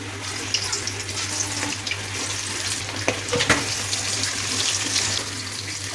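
Steady, crackling sizzle of marinated chicken frying in hot oil for chilli chicken, with occasional louder pops and spatters, close up and without talk.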